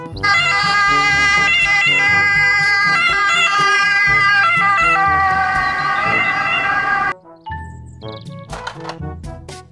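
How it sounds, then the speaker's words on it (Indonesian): A toy ambulance sounds a loud electronic siren with bright, stepped tones that cycle for about seven seconds. It then cuts off, leaving scattered clicks and short beeps. "mobil ambulans"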